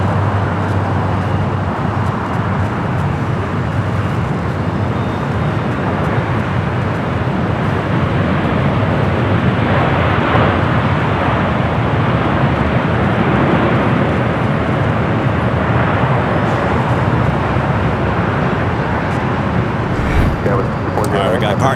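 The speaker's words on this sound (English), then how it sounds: "Flight coming in from Newark in the 787-10 Dreamliner." A Boeing 787-10 Dreamliner arriving at LAX gives a broad, steady jet roar that swells a little toward the middle, with a commentator's voice running over it much of the time.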